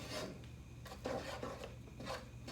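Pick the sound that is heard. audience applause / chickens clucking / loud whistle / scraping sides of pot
scraping sides of pot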